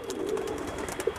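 A wild pigeon recovering from an injury gives a soft, low coo, fairly close against a quiet background hiss.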